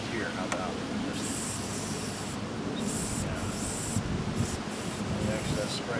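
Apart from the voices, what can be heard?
spraying cleaner on a Dodge Dakota idle air control valve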